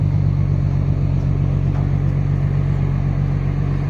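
Infiniti Q50 with a VQ37 engine and aftermarket exhaust holds a steady, loud, deep droning rev close by, a constant low rumble with no talk.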